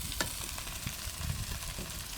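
Onions frying in coconut oil in a pan, a dense continuous sizzle with occasional stirring scrapes, heard up close with no talking.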